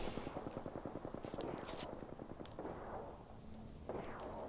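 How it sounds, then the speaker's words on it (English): Video game gunfire crackles in rapid, steady bursts at a distance, the shots running continuously under a faint background wash, with a few sharper distant reports toward the middle and end. "Ah, they're shooting each other."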